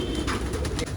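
Racing pigeons kept at a home loft in Jamshedpur coo softly and closely in a short, low burst, with faint chirps and rustling over it.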